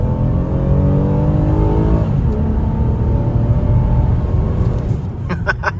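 A Toyota Camry engine revving loudly up close, rising and falling through strong harmonic sweeps, then settling toward idle near the end.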